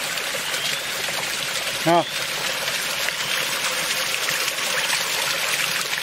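A mountain stream on Dinh Mountain in Vietnam flows among slippery forest rocks, giving a continuous broad rushing wash of water close by, broken only by one brief vocal exclamation.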